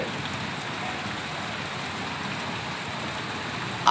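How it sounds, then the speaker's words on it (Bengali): Steady rain falling, an even hiss of drops on surfaces that holds constant throughout, with no voices. "বৃষ্টি হচ্ছে"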